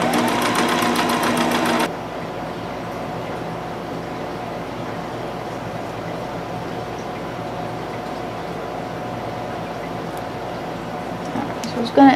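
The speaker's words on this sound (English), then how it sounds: "We're sewing them." A sewing machine stitches clothes in a short close burst at the start, then stops, leaving a low hum and faint handling sounds for the rest.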